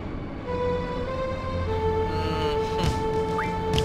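A train in the video game Final Fantasy VIII, heard as a steady low rumble with sustained tonal hums and a faint rising whistle-like tone near the end, with no talk over it.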